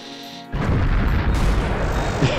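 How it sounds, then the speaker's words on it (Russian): Video game explosion in Konosuba, a sudden loud, close boom that cuts off a quiet musical tone and then roars and crackles densely until the end, without speech over it. "Взрыв!"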